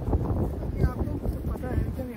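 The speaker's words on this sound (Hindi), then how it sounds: "हवा तो हमेशा यहाँ पे ऐसे चलती है।" Strong wind at One Tree Hill in Auckland buffets the microphone with a continuous rumbling roar that swells and dips, and a person's voice is faintly mixed in.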